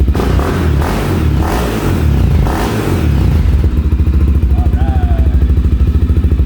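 A Honda 400EX ATV with a new aftermarket exhaust revs loudly and close up, settling into a deep, throaty, pulsing idle, with clattering and a voice briefly heard early on.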